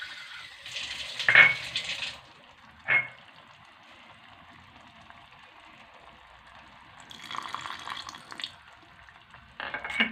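Water pours in short bursts into a pan of okra curry: a splashy gush, a brief splash, a longer pour after a pause, then another starting at the end, with quiet gaps between.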